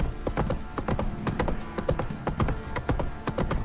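Roach, Geralt's horse in The Witcher 3, clip-clops on its hooves in a steady, brisk rhythm, close and clear, with a faint whinny-like tone beneath the hoofbeats.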